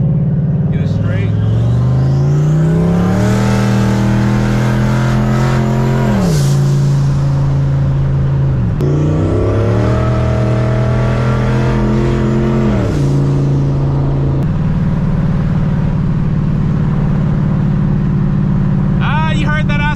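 A turbocharged SN95 Ford Mustang engine revs hard and close, climbing and holding in two long pulls with a wavering, oscillating boost note before settling into a loud idle.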